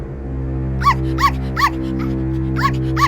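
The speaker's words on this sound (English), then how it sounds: "when Toto began to bark, the lion took a step back in fear" A dog barks six times in sharp, evenly spaced yelps over a steady low hum.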